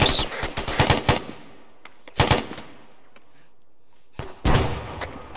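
Arma 3 combat with bursts of automatic gunfire and sharp blasts, including a grenade explosion, coming in three loud clusters separated by near-silent gaps.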